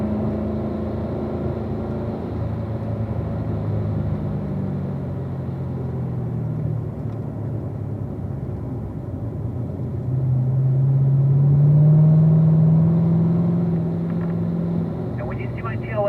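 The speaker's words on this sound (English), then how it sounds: "You can roll in, accelerate, upshift to 4th gear, Madison. Downshift to 3rd gear." Car driven on a prepared racetrack surface, engine droning low, then swelling as it accelerates with a rising tone and gear changes near the end, heard under someone talking steadily throughout.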